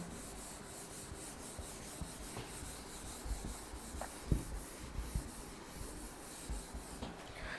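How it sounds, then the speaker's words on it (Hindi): A duster rubs writing off a classroom board in a steady, soft scrubbing rasp that continues for several seconds, with a few faint knocks, heard close and moderately quiet. "मैं रब कर रहा हूँ।"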